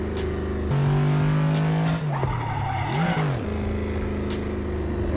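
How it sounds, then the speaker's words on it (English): A car in a racing video game with its handbrake on, engine droning at a steady pitch while the wheels spin and tires squeal, the tone dipping and bending midway before settling back, with no talk. "Why are my wheels spinning? Oh my gosh, my handbrake is on."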